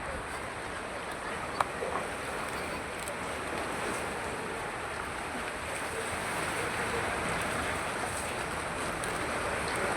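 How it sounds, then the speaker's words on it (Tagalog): Steady, even hiss of rain falling, a continuous wash of noise that holds at the same level throughout. "Ayan, umuulan."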